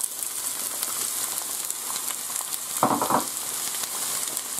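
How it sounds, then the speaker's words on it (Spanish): Onion goes into hot oil in a saucepan, giving a steady, close sizzle with a short, brighter burst of spattering partway through, and nobody speaks. "Ya se ha calentado el aceite y ahora echamos la cebolla."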